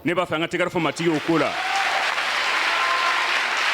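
A church congregation bursts into applause after a preacher's brief spoken call, the clapping steady and full, filling the room for several seconds.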